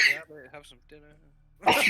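A single sharp sneeze bursts out at the end, following a brief bit of speech in a room where a tabletop role-playing group plays.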